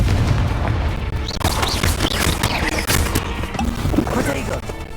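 Confringo fire spells burst in Hogwarts Legacy, a dense run of loud booming explosions and crackling impacts layered over continuous game sound and voices.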